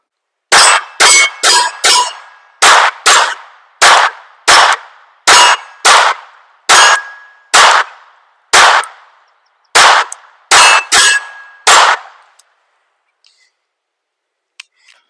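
A rifle topped with an ADE Optics red dot fires about eighteen loud, sharp shots in an irregular string at an outdoor range, each crack trailing a short ring, then silence with a few faint knocks.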